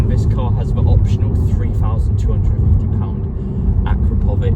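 A 2022 Alfa Romeo Giulia Quadrifoglio with a 2.9 V6 and a full Akrapovic carbon-tipped exhaust gives a deep, steady, close rumble at low revs while someone talks over it.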